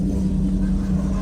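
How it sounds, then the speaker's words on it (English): A Maserati MC12 Corsa supercar with its removable roof off drives along the road, its engine giving a steady, loud, low rumble at close range with no break. "MC12 Corsa on the road"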